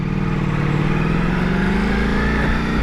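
A Ducati Multistrada V4S fitted with a full Akrapovic exhaust system, cruising on a motorway with a steady, loud engine drone and a slowly rising pitch.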